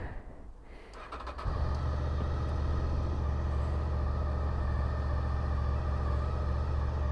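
A Yamaha Fazer motorcycle under restoration is jump started: a short whirring crank, then the engine catches after about a second and a half and settles into a steady, loud, close idle rumble.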